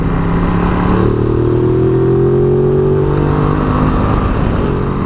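A Ducati Multistrada 950 motorcycle engine revs up and holds at high RPM, loud and close, a steady droning roar with rising tones, then settles back down.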